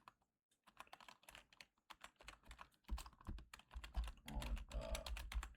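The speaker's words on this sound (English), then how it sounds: "I'm going to type this with y'all watching." Quick, irregular clicks of keys being typed on a computer keyboard, close and clear, in short bursts with brief pauses.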